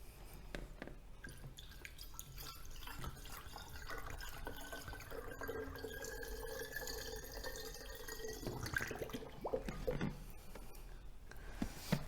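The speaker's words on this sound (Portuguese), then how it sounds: "Aqui eu vou utilizar uma água mineral para colocar." Mineral water is poured into a device's tank, a quiet steady trickle with small drips and splashes running for several seconds, faint and close with no talking.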